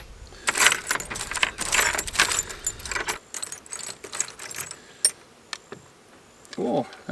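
Metal Allen keys rummaged in a box at an off-grid homestead, bursts of close jangling and clinking metal with scattered sharp clicks and pauses between handfuls.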